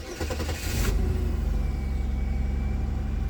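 A 2002 Chevy Malibu engine with a crank-no-start fault catches after cranking and settles into a steady, loud, close running drone with a rhythmic pulse, no talking.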